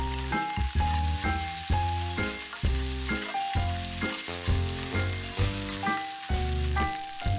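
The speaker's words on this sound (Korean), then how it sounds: "중간중간 들기름을 넣어주면서 이렇게 볶아줍니다" Food stir-fried in a pan with perilla oil sizzles steadily close by while a spatula stirs, accompanied by rhythmic melodic background music.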